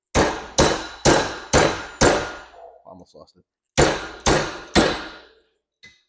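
An 8-inch AutoZone adjustable wrench used as a hammer gives loud, ringing metallic clangs: five blows in quick succession, a short pause with a brief spoken comment, then three more strikes and a faint final tap.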